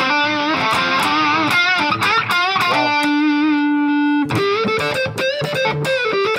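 Electric guitar played through a TC Electronic VoiceLive 3 multi-effects pedal, distorted tones with a held note and a reverberant tail between picked phrases.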